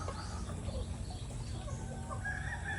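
A flock of free-range backyard hens clucks continuously over steady background noise, with a rooster crowing faintly toward the end.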